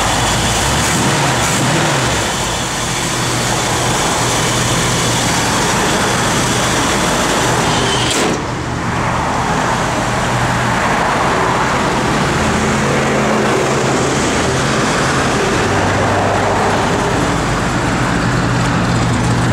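A 1964 Buick Riviera engine runs at a steady idle, a loud and continuous rumble with low drone that barely changes. A brief dip about midway marks a switch as the air conditioning comes on.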